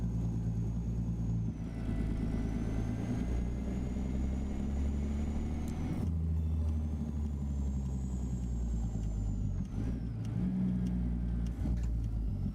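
Heavy truck engine in a trucking simulator game, with a steady low rumble that swells through repeated revs and gear changes. A whining tone rises and falls over the drone, and it is loud and continuous with no talk.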